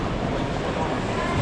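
A steady, broadband rumble of a train running continuously at London Euston station, fairly close and even in loudness throughout, with no clear voices.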